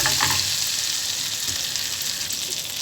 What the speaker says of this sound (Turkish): Tereyağına biraz kırmızı toz biber koydum.